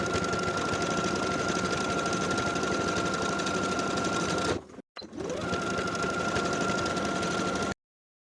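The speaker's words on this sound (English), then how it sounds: "Now I'll sew my buttonholes in place at the markings." A sewing machine stitches buttonholes into a shorts waistband in one continuous, close whir, with a brief pause near the end before the motor starts again and then stops.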